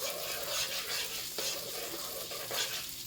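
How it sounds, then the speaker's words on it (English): Thick pureed roasted red pepper pasta sauce being stirred in a pot, a close, steady scraping and gentle bubbling sizzle running throughout without any talk. "I'm gonna give this a little stir."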